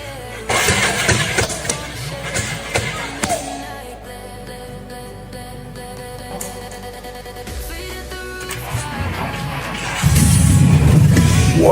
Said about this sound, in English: Whoa! Did you guys see that? She fired up!